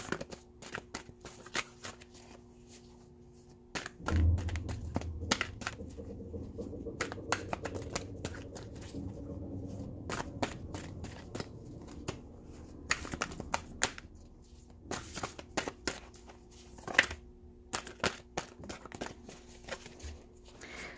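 Tarot cards being riffled and shuffled close up, producing long runs of crisp rapid flicking and slapping with brief pauses between bursts, fairly quiet and with no voice over it.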